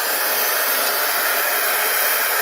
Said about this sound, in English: So I'm just going to pull in my heat tool and make sure it's dry rather than sit and wait for it.